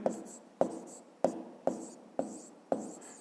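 A pen writes math on paper in six short, evenly spaced strokes, each a crisp scratch that fades quickly, close and quiet with no voices.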